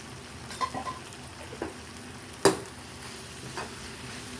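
Ground roasted spice paste for sambar fries softly in a pan, a faint low sizzle broken by a few light stirring scrapes and one sharper clack of the spoon against the pan.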